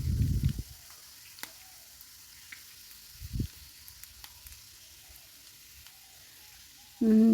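Curry leaves, chopped mukunuwenna greens and small red onions fry in oil in a pan, making a faint, low sizzle broken by a few short, louder bursts near the start, middle and end.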